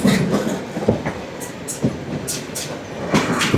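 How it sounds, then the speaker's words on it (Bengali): A broad-gauge North Bengal express rolls past an onboard listener on the Mymensingh–Dhaka line, a loud, uneven rumble with repeated rhythmic wheel clatters and rushing bursts. "এটা ব্রডগেজের একটা ট্রেন উত্তরবঙ্গের।"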